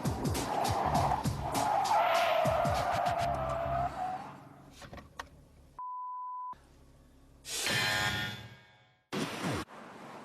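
A car brakes hard at 80 km/h while swerving, tires squealing and skidding loudly for several seconds, followed by a beep tone and further bursts of noise.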